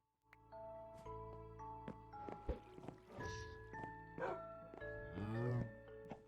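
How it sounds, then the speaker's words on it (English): A dog in the Minecraft video game makes soft barking sounds inside a built pet shop, heard faintly among game music tones and small scattered clicks. "There is a dog there."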